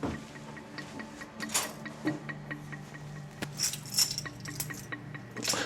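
A small bunch of two keys jingles and clinks at a door, with scattered light metallic taps and rattles spread unevenly over several seconds, close by and fairly quiet.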